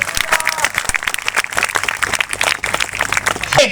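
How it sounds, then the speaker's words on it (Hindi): Loud clapping from a church congregation glorifying God during a sermon, a dense continuous burst of hands with crowd noise under it. "जोरदार ताली बजाकर प्रभु की महिमा करें।"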